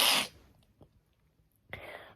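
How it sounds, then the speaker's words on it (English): A sharp burst of a sneeze at the start, then quiet with a faint click, followed by a second softer breathy burst near the end, close to the mic indoors. "I can't stop sneezing this moment."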